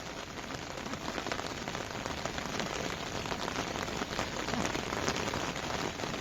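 Rain falls steadily on a rice paddy in Konkan, a dense, even hiss of countless drops with no voices.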